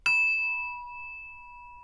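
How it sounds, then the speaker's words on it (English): A single bright bell strike with a clear metallic ring that sustains and slowly fades, heard alone in a quiet room. "Let's ring the bell."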